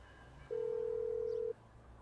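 Telephone dial tone during a call in the video game Grand Theft Auto V: a single steady electronic tone lasting about a second, clear over quiet background.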